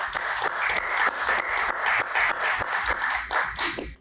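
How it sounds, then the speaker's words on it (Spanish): An audience applauds warmly for a guest author at a presentation, with dense continuous clapping that tapers toward the end. "Recibámoslo con un gran aplauso."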